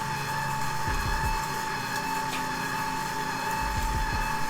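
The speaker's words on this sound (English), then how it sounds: "This definitely seems to be mixing my brown sugar, white sugar, butter, and salt all together." A KitchenAid 5.6 qt stand mixer creams brown sugar, white sugar, butter and salt, giving a steady, dense motor whir with a faint low knocking from the beater, continuous and fairly loud throughout.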